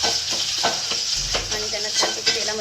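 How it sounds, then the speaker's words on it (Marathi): Cut potatoes sizzle in hot oil while being stirred in a pan for shabudana khichadi, a close frying hiss broken by scraping utensil strokes and light clinks. "आणि त्यांना छानपैकी तेलामध्ये असं परतून घ्यायचं"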